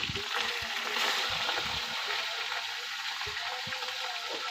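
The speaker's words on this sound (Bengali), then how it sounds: "আমি কড়াতে তেল দিয়ে দিয়েছি, সামান্য জিরে ফোড়ন দিয়ে দিয়েছি, আর এখানে ইলিশ মাছের মাথা দিয়ে দেবো" A hilsa fish head frying in hot oil with cumin in a kadai, a loud, dense crackling sizzle with a few low knocks of the pan, no talk.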